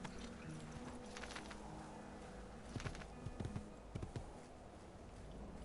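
Horse hooves clip-clop in the Assassin's Creed Ezio Collection video game, a scattered run of sharp hoof strikes in the middle over a steady background hum, moderately close.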